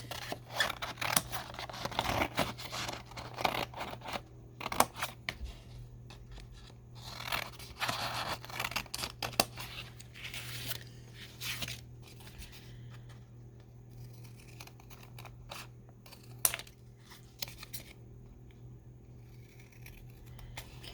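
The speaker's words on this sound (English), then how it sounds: "I'm just going to go ahead and cut these apart." Scissors snip and slice through paper journaling cards in repeated irregular cuts with crisp crunches, over a low steady background hum.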